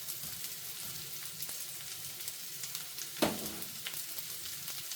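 Rice sautés with spices in a paella pan on a boat, giving a soft, steady sizzle with faint scraping stir strokes and one brief louder clatter, no voices.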